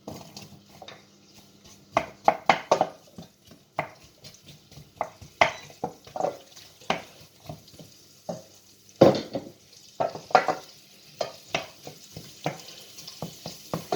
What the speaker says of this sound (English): So into the oil goes the onions.